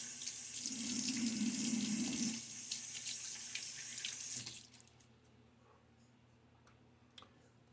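Water runs from a tap for a few seconds in a loud steady rush, then shuts off, leaving quiet room sound with a faint click.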